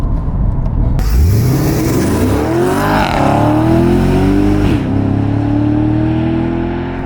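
A Porsche Panamera GTS accelerates hard with a loud engine note that climbs through rising revs and gear changes, then settles into a sustained roar.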